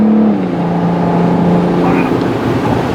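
Tuned BMW 335d diesel sleeper accelerating hard, a steady loud engine drone with a pitch that dips as power cuts out, heard from inside the car.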